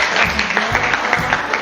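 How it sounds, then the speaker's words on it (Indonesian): Pupils in a classroom clap together briefly, a loose burst of individual claps at close range with some voices underneath. "Beri tepuk tangan untuk kita semua."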